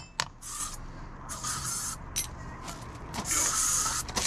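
Bursts of aerosol sealer are sprayed in a garage during off-road vehicle repairs, as several short hissing sprays of varying length sound close and loud over a low background rumble.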